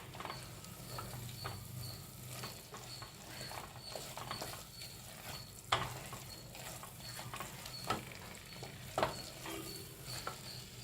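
Chettinad chicken kuzhambu masala sautéing in a pan gives a soft, low sizzle under uneven knocks and scrapes from a spoon stirring it, with a few louder clacks against the pot and no voices.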